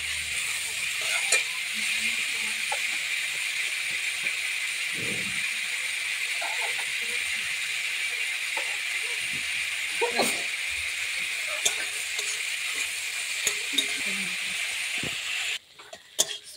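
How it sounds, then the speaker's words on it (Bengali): Vegetables for egg chowmein stir-fried in a pan, a steady loud hiss and sizzle with occasional scrapes and clinks of the spatula, running continuously until it cuts off near the end. "তো এখন এইগুলো ভালো করে নেড়ে নেবো।"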